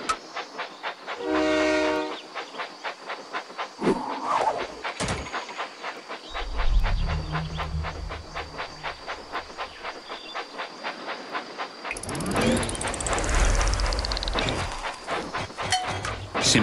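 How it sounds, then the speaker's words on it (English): A toy-like Thomas & Friends video game train engine chugs along with rhythmic clacking, a horn toot near the start, a brief hiss, and a bright whistle blast toward the end. "Clear the tracks. Engine coming."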